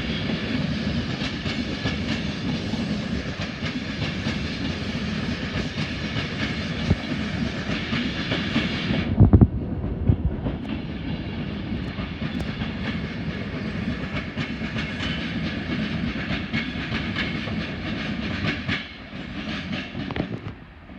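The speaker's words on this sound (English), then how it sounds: "what's this I see coming up the line? None other than a freight train." A Class 66 freight train passes on the line at Stockport, with a loud steady rumble and rolling wagon clatter that runs for about twenty seconds and briefly dips halfway through.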